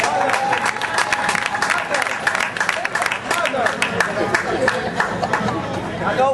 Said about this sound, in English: Undine Whitaker, give her a round of applause, please.